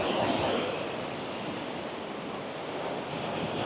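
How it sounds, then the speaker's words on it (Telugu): Water rushes hard through the Srisailam Dam project near the power house. The roar is dense, continuous and broadband, steady from start to end, with no voices. "సౌండ్ మాత్రం సాలిడ్ వస్తుంది, ఫుల్ సౌండ్ వస్తుంది వాటర్ది."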